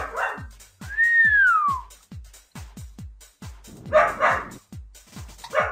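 A dog barks in the browser game Learn to Fly: a bright falling whistle sweeps down first, then a short cluster of rough barks arrives midway, all over a steady, rhythmic thumping beat that pulses through the whole stretch, with no talking.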